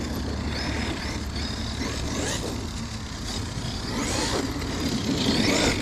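A Traxxas X-Maxx RC truck on Pro-Line Badlands tyres drives past with a rattling, clattering whine that swells and fades, moderately loud against outdoor background noise.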